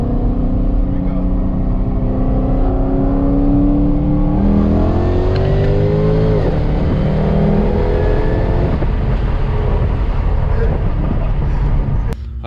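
A supercharged Jaguar XF pulls hard through second gear, its loud, steady supercharger whine rising in pitch over a deep engine roar, close up and continuous throughout.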